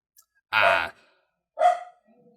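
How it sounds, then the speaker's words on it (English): Two loud, close dog barks a second apart, the second shorter and followed by a faint whine. "Oh God, the dog's barking."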